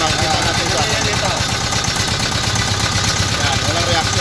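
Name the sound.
Deutz diesel engine running with misfire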